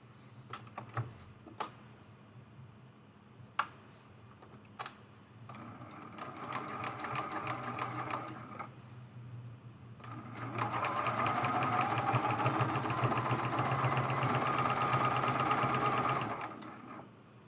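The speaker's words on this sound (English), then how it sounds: "We're going to sew this seam" A sewing machine stitches a seam on a quilt-as-you-go table runner, with short bursts and pauses early on, then a longer steady run of rapid mechanical clatter before stopping near the end.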